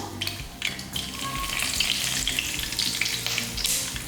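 Curry leaves crackle and sizzle in hot oil as a tempering for fish curry, a steady close frying hiss with small popping bursts throughout.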